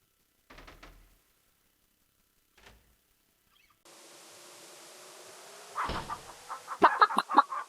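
A rooster clucking in the King's Quest 3 video game: a few quick, clear clucks near the end over a steady buzzing hum, after some faint scattered clicks.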